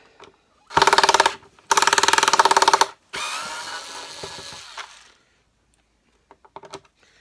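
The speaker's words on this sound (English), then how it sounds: "let's undo all these screws" Screws being undone on an Electrolux Turbo 2 vacuum with a power driver, two loud whirring bursts followed by a longer, quieter spin, then a few faint clicks of handling.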